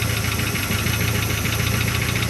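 The V8 engine of a 1975 Chrysler Cordoba idles loudly and steadily nearby, with a rough, knocking rhythm and an exhaust leak adding rasp.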